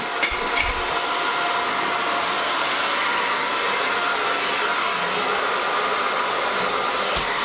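Conair Testarossa hair dryer running on full heat and full blast, a loud, steady broadband whoosh of airflow with a motor whine, continuous and unchanging from start to finish.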